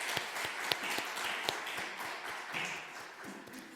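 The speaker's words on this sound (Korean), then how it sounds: "축복하고 격려하는 박수 한번 더 하겠습니다" Congregation clapping in a church during a Wednesday worship service, a steady spread of hand claps with a few sharper claps standing out, moderately distant and fairly even throughout.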